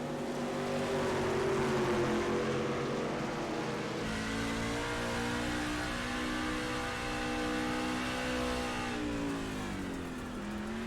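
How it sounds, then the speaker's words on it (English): A racing truck engine holds steady in third gear down the backstretch during a Black Horizon Truck Series race at USA International Speedway, a loud continuous drone with slowly rising and falling pitch and no voices. "Sounds like Telder's keeping the truck in third gear down the backstretch, keeping his foot off the bottom of the floor."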